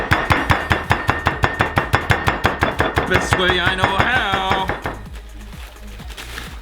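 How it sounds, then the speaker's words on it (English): Oreo cookies sealed in a Ziploc bag are smashed with a quick, steady run of loud thuds, followed by plastic crinkling and rustling, then a quieter stretch; a brief spoken remark comes first. "we're gonna put these Oreo cookies into a Ziploc bag because we wanna smash them up"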